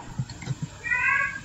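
A cat meows in a Call of Duty Zombies junkyard map, a clear drawn-out meow after a few soft low thumps, close and fairly loud with no talking.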